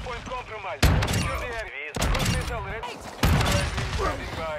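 Gunfire in the video game Modern Warfare 2, with several loud bursts of shots under excited talking, separated by brief gaps.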